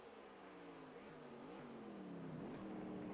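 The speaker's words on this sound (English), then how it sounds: "downshifting there" A stock car in the NASCAR Racing 2003 simulation on the Toronto street circuit whines at high revs, its engine pitch stepping down through several downshifts, steady and fairly loud.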